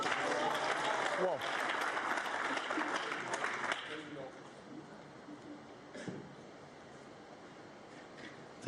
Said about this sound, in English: The applause sort of started then and then almost stopped immediately when the crowd saw that he wasn't on a colour.